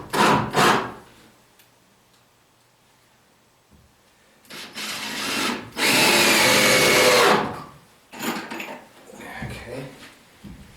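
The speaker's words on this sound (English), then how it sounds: "So that I can screw this in." A power drill drives screws through a board into wall studs while a workbench is built inside a new wood shop, with short bursts and one long loud run of the motor, between quieter pauses and some handling noise.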